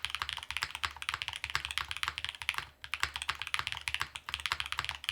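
Rapid typing on a Solaris keyboard fitted with Blue Cheese V2 switches in an O-ring build makes a dense run of close, crisp clacks with a deep undertone and one brief pause midway. Nobody speaks.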